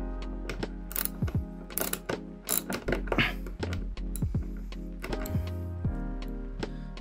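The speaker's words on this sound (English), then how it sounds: "just be careful that the ratchet doesn't hit your bike or anything else in the area" A ratchet works loose the bolts on a Harley-Davidson windshield fairing, close repeated clicking bursts and metallic knocks in an irregular rhythm, no talk.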